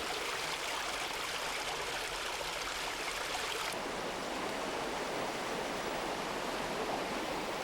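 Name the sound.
mountain valley stream of the Nakdong River flowing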